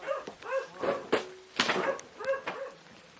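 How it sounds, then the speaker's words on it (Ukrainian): A dog barks and yips in short bursts of four or five, fairly close and loud, in a frontline setting near Myrnohrad in Ukraine, with brief whimpering tones between the barks. "Собака."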